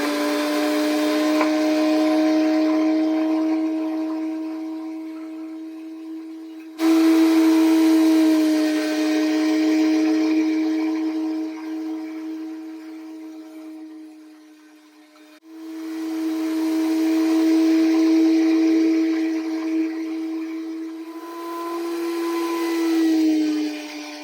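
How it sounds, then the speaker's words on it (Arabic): Electric meat grinder running steadily while making Syrian kibbeh, a loud droning motor hum with a constant whine that dips and surges in three long stretches, heard alone without talk. "هي ماكينة وطالع صوت تضوج، اسمعوا"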